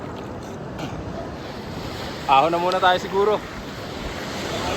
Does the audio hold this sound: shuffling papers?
no